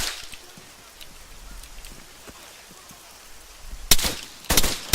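Gunfire in the Arma 3 military shooter: a quiet rustling field background with faint distant pops, then two loud, close bursts of rapid shots near the end.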